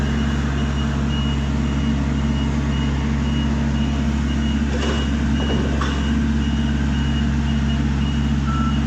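Drive alarm of a 2015 HR21D/SP64D aerial work platform beeping while the machine drives, a steady, regularly repeating beep over a loud constant motor hum, close by.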